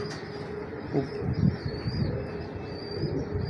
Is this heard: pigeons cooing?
yes